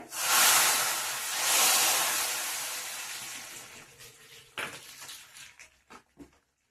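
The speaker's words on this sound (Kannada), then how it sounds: "ಇವಾಗ ಒಗ್ಗರಣೆ ಮಾಡಿರೋದನ್ನ ಇದಕ್ಕೆ ಹಾಕೋತೀನಿ ನಾ ಬೇಳೆಗೆ." Hot tempering of asafoetida, dried red chillies, garlic and curry leaves poured into cooked lentils for a Karnataka-style ridge gourd sambar, giving a loud hissing burst that fades over a few seconds, then a few brief utensil clinks.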